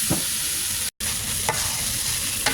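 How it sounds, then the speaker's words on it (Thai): Pork stir-fried with young tamarind in a pan, a loud close sizzle with scraping stirs, broken by a brief cut to silence. "เดี๋ยวก็ผัดไปเรื่อยๆนะจ้ะเพื่อน ให้หมูให้มะขามมันสุกจ้ะ"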